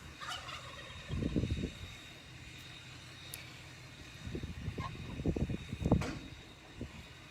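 Toulouse geese on a farm give bursts of low honking and gobbling calls, faint and somewhat distant, in several clusters with quieter gaps between them.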